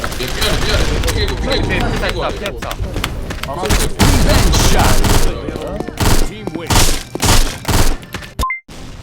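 Gunfire in the Sudden Attack shooter, sniper rifle in play, with scattered sharp shots and bursts over a dense game backdrop, loud and close, while players talk excitedly throughout.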